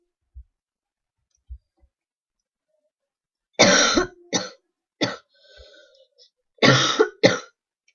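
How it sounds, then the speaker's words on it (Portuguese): A man with a cold gives a few sharp, close coughs and throat clears in a quiet room, with faint mouse clicks before them. "Foi mal pela essa tosse aí"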